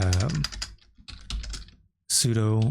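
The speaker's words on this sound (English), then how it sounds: "So all you do is type in sudo" Quick clicking keystrokes on a computer keyboard as a Linux terminal command is typed, heard in a brief spell between stretches of close talking.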